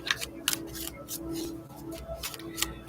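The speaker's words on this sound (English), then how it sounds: "So 24 shuffles for my awakening tarot message" Tarot cards being shuffled in repeated short riffling bursts, close and fairly quiet, over a low steady hum with light room noise and no speech.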